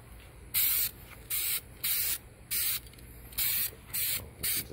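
Duplicolor spray paint hisses from an aerosol can in seven short, evenly spaced bursts as a dashboard from a 1988–94 GMC 1500 truck gets light coats, each burst close and loud with brief pauses between.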